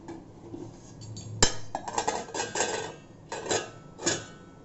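A lid is set on a cooking pot of Indian veg doodhi dalcha and jeera rice: one sharp metallic clank, followed by several lighter clinks and rattles as it settles.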